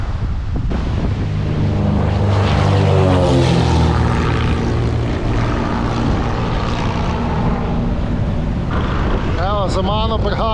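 A propeller airplane approaches to land at the end of a runway beside a windy beach on Saint Barthélemy, its engine drone building loud and steady over strong wind buffeting, with a voice talking near the end.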